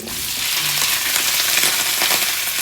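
Food frying in hot oil, a loud, close, continuous sizzle with crackling spatters throughout.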